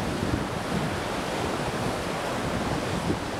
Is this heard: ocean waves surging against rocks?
yes